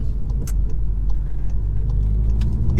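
A Stage 2 VW Golf R drives in race mode with traction control off and a manual gearbox, a steady, loud low engine rumble and road roar heard from inside the car, with faint clicks over it.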